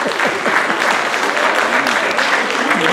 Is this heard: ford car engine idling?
no